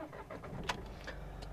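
An SUV engine starts up, a brief crank followed by a low steady idle rumble, heard close and without talk.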